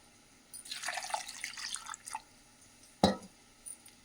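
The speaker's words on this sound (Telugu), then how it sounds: "ఇది జ్యూస్ వేసుకోవాలండి, చింతకాయ జ్యూసు" Tamarind juice is poured into sesame chutney in a brief, soft liquid trickle, followed by a single wet plop and a faint drip in a quiet kitchen.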